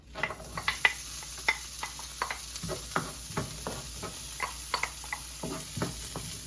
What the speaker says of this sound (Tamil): இப்போ முதல் நான் ஒனியனை போடுறேன், வெங்காயத்தை போடுறேன்.